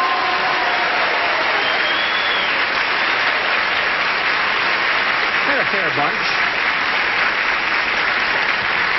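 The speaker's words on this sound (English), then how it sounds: "Then I would like applause." Studio audience applause on a 1975 CBS daytime game show, loud, dense and continuous throughout, with a voice speaking briefly over it.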